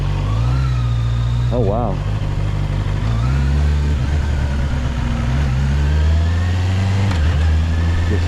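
A Honda CB650R motorcycle engine idling and then revving up and down as it is shifted into gear without the clutch, loud and close, with a person briefly exclaiming over it.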